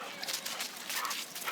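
Small dog whimpering and giving short high yips, close and fairly faint, a brief run of nasal whines with no other sound.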